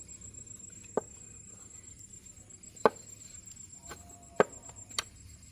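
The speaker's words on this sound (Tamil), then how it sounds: "நான் அந்த டம்ளரால் வெட்டுறபடியே சின்ன இந்த அளவில் பெருகுது" A few sharp, separate taps as a steel tumbler rim presses down through rotty dough on a board, four or five clicks spaced about a second apart over a quiet room hum.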